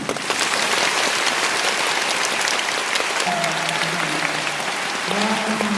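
An audience at a classical opera concert breaks into dense, steady applause to welcome a tenor, a full hall of clapping that stays loud and even throughout, with faint voices and a few cheers inside it.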